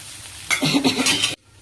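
A sudden loud burst of sizzling as cowpea pods drop into hot oil with cooked tomatoes, crackling close for under a second before cutting off.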